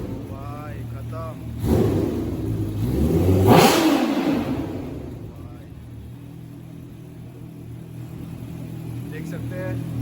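A Kawasaki Ninja H2 with a titanium exhaust revs loudly up close, its engine swelling in two rising blasts before settling back to a rumbling idle, with faint voices in the background.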